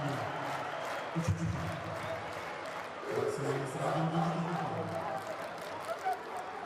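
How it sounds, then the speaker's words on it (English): Basketball arena crowd at a Türk Telekom versus BAXI Manresa Champions League game cheering and applauding in a steady distant roar, with a commentator talking over it throughout. "Crowd loving it."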